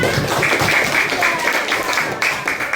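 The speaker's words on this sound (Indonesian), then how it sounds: "ya tepuk tangan untuk kita semua" A crowd of people clapping steadily, moderately loud and close, with some voices mixed in the background.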